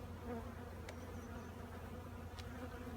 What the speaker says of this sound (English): A large group of bees investigating matters